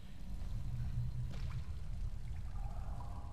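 A stream of blood flows in the video game Tomb Raider Definitive Edition on PS4, a low, steady, faint gurgling pour with a soft trickle rising briefly, alone without talk.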